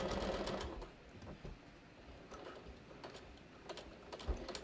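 Sewing machine stitching slowly across bulky jeans seams, a faint, rapid mechanical ticking and whirring with irregular clicks, quiet and close with no voices.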